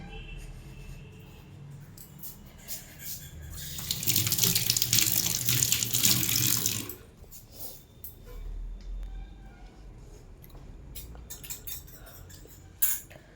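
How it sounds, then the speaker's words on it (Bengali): Water runs from a tap for a few seconds as hands are washed, a loud steady splashing rush close by, set among faint household clatter and quieter rustling before and after. "আগে হাতটা ধুয়ে আসি"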